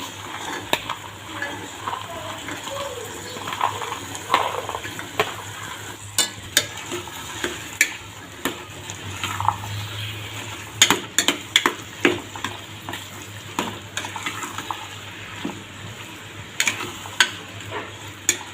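Boiled chickpeas sizzle gently with masala in a pan while a spoon stirs and scrapes, producing repeated sharp clicks and taps against the metal over a soft frying hiss.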